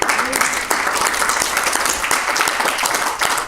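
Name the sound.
congregation applause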